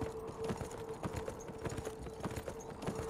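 Horse hooves clip-clopping at a steady trot while a rider is carried along, repeated hoofbeats close by over a low background of wind and movement.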